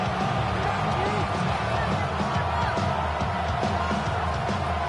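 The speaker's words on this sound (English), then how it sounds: "This crowd turning up the decibel level." A football stadium crowd roars during a Cleveland Lions game on a late third-and-long play, a thick, sustained wall of cheering and noise that stays loud and steady throughout.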